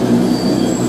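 A new Bombardier tram runs along the Croydon Tramlink, with a loud, steady rolling rumble and a thin wheel squeal sustained from start to finish, heard from on board.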